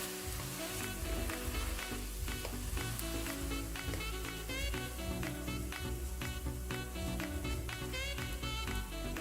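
A grilled ham and cheese sandwich sizzles steadily in a pan, a close, continuous crackle with no voices over it.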